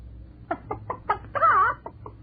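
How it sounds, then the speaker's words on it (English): A chicken on a 1959 radio quiz show lets out a quick series of close clucks, then a longer rising squawk and a final cluck, with no talking. "What's that chicken doing here?"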